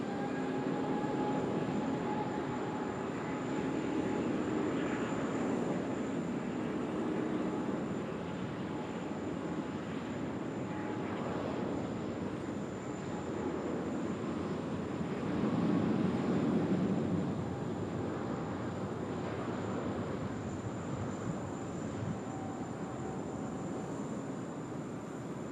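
A China Southern airliner rolls down the runway on takeoff at Sydney Airport, a steady broadband jet roar that holds level for about 25 seconds and swells briefly near the middle, heard from some distance with no talk.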